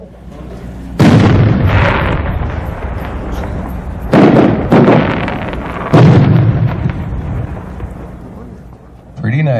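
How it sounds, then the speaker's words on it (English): Loud booming bursts from a 10-inch cage-pattern aerial firework shell with blue, red and yellow inserts and reports, fired at an outdoor winter display, with several heavy bangs and crackling rolls spread across the stretch. "the next one is a 10-inch cage pattern of blue, red, yellow inserts with reports, and those are lots of bangs"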